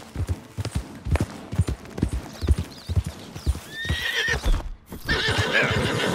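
A horse in the Red Dead Redemption 2 video game, its hooves clip-clopping in a steady trotting rhythm up close, with a drawn-out neigh midway and a rush of louder movement at the end.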